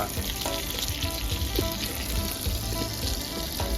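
Thai sour herb curry (kaeng om) simmering in a pot over turned-up heat with vegetables being added, a steady bubbling, sizzling wash with faint clinks, close and continuous with no talk.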